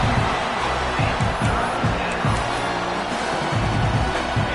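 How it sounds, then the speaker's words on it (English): A loud stadium crowd roars at a Michigan college football game on third down, a dense, continuous wall of noise with surges of cheering. "Big noise, big house, trying to rile up this Michigan defense on third down."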